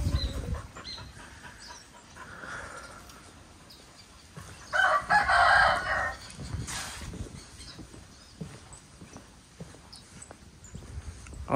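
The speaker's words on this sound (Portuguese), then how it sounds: "o galo tá partindo pra ração do cachorro" On a farm with crops and fish ponds, a rooster lets out one loud, drawn-out crow midway through. Quieter rustling and faint bird and animal sounds come before and after it.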